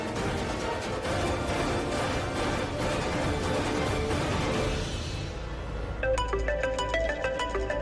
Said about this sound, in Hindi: पूरब का फोन?